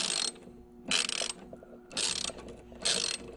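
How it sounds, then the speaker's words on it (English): A wrench working 10mm nuts on an electric ATV's 5kW motor controller: four short bursts of rapid ratcheting clicks, evenly spaced and close, with quiet gaps between. "he has the 10mm nut held with the open box, and he's undoing them now"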